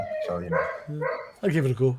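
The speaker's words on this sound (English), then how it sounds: "sorry my dog's barking" A pet dog barks near someone talking about comic books; a couple of close yips and barks break through over his ongoing speech.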